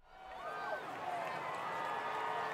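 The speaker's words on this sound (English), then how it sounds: "I got crowd cheering." A crowd-cheering sound effect played from a soundboard: a dense, steady wash of many cheering voices that swells in and holds at an even, fairly loud level.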